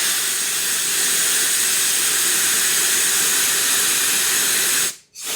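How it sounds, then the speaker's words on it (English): A hand pump hisses steadily while pressing wax foundation, a loud, continuous rushing air sound that cuts off abruptly near the end. "I'm going to pump it, and it just kind of squirt itself right underneath the wax."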